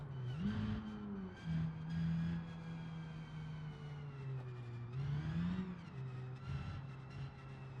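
A touge car's engine in the BeamNG.drive driving game hums steadily, its pitch rising and falling as the throttle is fed in and eased off, with a couple of sharp revs and no talking.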